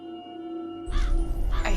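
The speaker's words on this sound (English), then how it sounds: "I hear birds." Crows caw loudly outdoors, a sudden burst of harsh calls that breaks a quiet, low-humming stillness, with a second call near the end; no speech.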